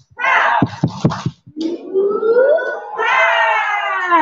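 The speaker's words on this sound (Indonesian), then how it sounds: "Oke, tepuk semangat" An adult group at an indoor workshop claps a quick run of four or five sharp rhythmic beats in unison, then chants and cheers together in loud voices.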